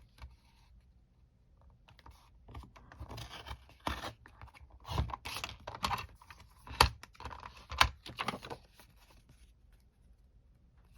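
Paper being cut for an envelope journal recipe holder, heard as quiet clustered clicks and snips with irregular sharper cuts, close and faint.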